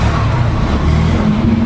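A Honda Click v3 scooter with an 11 and 13 gram flyball combination and Sun CVT setup drives on the road on a test ride. A steady, loud low engine drone and road rumble run throughout, with no talk.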